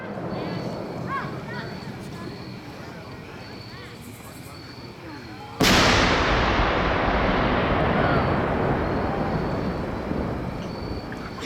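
A large 6-pound black powder fireworks rocket with a ferrotitanium comet tail: a faint rushing hiss at first, then a sudden loud blast that decays into a long roaring wash, with voices talking in the background.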